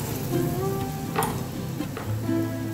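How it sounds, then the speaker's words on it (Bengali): Raisin fritters, Bengali kishmish bora, sizzling steadily in hot oil, a close, continuous crackle with small bubbling pops. "এইভাবে নিয়ে আমি ভাজবো।"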